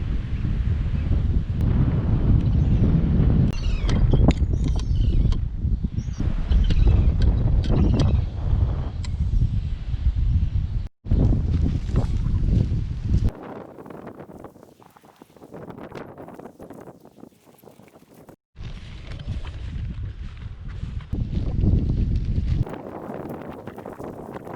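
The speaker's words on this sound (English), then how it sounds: "It's pretty windy" Wind gusts across a beach at Whiritoa on the Coromandel coast of New Zealand, roaring loud and buffeting the microphone through the first half, then easing into quieter, uneven rushes with a few abrupt dropouts.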